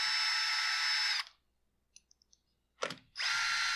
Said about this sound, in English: So let's get these screws ran back home.